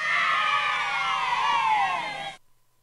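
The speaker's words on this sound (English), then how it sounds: "I'm going to use the children cheer sound effect." Children's cheer sound effect plays on an interactive classroom flipchart, a loud sustained burst of shrill, high young voices that holds for about two seconds and then cuts off abruptly into silence.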